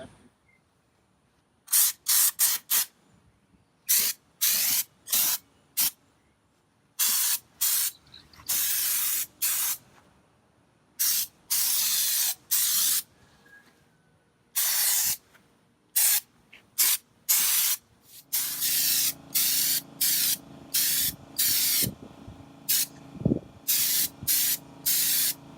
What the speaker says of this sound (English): we're gonna start spraying the Raptor on the truck.